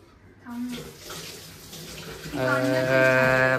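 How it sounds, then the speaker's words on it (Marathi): Water runs steadily from a tap while dishes are washed, close and continuous, while a voice speaks and then hums or calls out over it. "भांडी घास्या"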